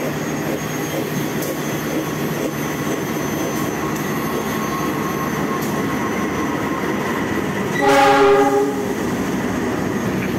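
A Papandayan panoramic-class passenger train on the Garut to Jakarta run rumbles steadily along the rails, with a loud train horn blast rising briefly near the end.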